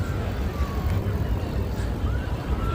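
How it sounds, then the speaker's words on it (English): FDNY fire truck sirens wail through Manhattan streets during a protest in New York City, a rising and falling tone heard at a middle distance over heavy steady traffic and crowd rumble. "how did they turn on their sirens to stop right there?"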